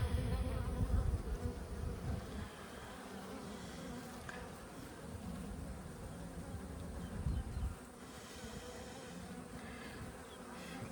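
Honey bees buzzing around an open hive during a beekeeper's field inspection, a close, continuous droning hum with shifting swells as individual bees pass near, no talking.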